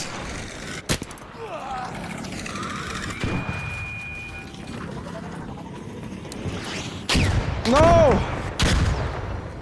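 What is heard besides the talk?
gunfire in the video game ARC Raiders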